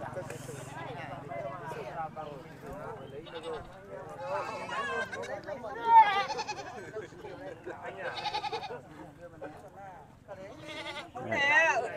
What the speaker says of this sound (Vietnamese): dê con